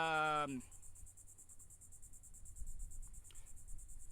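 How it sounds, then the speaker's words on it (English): Cicadas chirr in a steady, fast-pulsing drone throughout, faint and distant, after a brief loud tone at the very start. "there's a lot of cicadas in the background, Jason."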